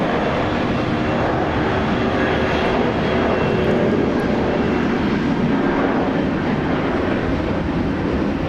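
A Jetstar Airbus A320 roars on takeoff at Brisbane Airport, a loud, constant broadband jet rumble sustained throughout, with no speech.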